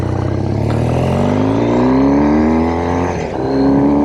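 Loud, close engine drone of a 2007 Triumph Thruxton 900 motorcycle under way, pitch climbing smoothly as it accelerates, then a brief dip at a gear change before rising again.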